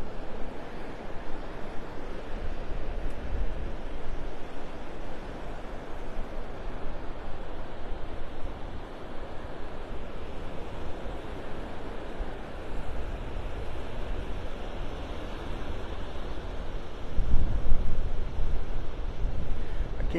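Ocean waves roll steadily onto the beach at Delnor-Wiggins in North Naples, Florida, during an evening walk, a continuous close surf roar with heavy wind buffeting the microphone and a louder gust near the end.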